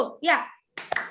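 A voice speaks briefly in a classroom, then a few people clap in a short, loose burst with a couple of sharper claps standing out.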